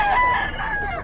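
A Golden Boy sweater gamefowl rooster at the Bocaue pet market gives a single short, clear crow, fairly close and loud, with nothing else heard.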